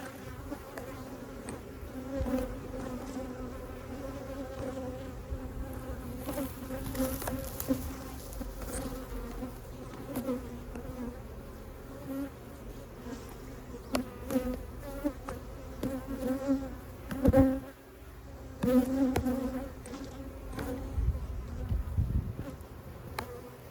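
Honey bees buzzing steadily around an open hive during an early May inspection, a dense, continuous droning swarm close by, swelling and dipping with occasional knocks and rustles of handling.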